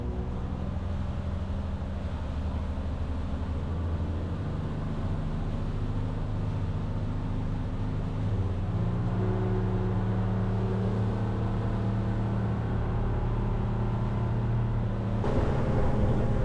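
Ranger Tug boat cruising at 4,000 RPM at about 22 miles an hour, a continuous loud engine drone with rushing water and wind noise, its pitch rising slightly midway and holding steady.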